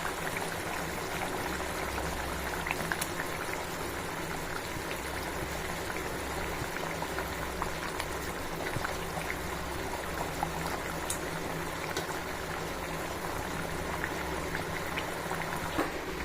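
Vaala meen kuzhambu, a fish curry, boils uncovered in a pot, giving a continuous low bubbling and simmering hiss that stays even and fairly quiet throughout.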